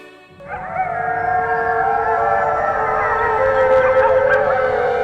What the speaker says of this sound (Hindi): दिन में सियार के रोने की आवाज।